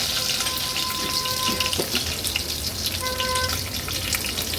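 Crushed garlic and two pieces of green chili sautéing in hot oil for an Agri-Koli style fish curry, giving a steady close sizzle and hiss throughout, with a faint tonal hum in the background and no talking.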